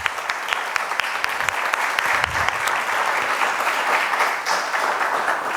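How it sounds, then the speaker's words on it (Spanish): Audience applause at an electric mobility technical forum, a roomful of people clapping steadily, with some individual claps standing out sharply, sustained throughout. "Vamos a darles un aplauso."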